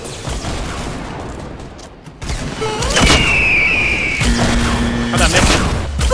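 Rocket explosions in the Fortnite battle royale game boom and crackle amid gunfire, loud and close, while players talk excitedly over the chaotic combat.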